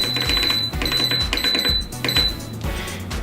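An air fryer's timer being set to 20 minutes while cooking French fries, rapid repeated electronic beeps pulsing loudly and close over a busy background.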